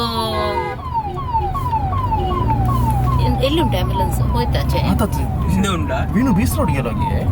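An ambulance siren wails continuously with rising and falling sweeps, close and loud over road and engine noise while people talk nearby.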